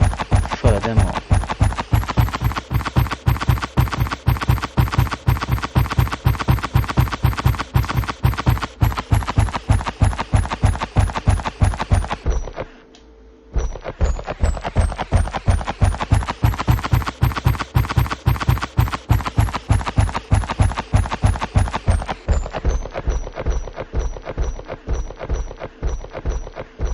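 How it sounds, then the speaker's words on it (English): Rapid, even character footsteps thud and crunch in a Unity open-world game, loud and close, with a brief gap midway before the steady stepping resumes at a similar brisk pace. "How to differentiate the sound of the footsteps based on the movement speed of the character."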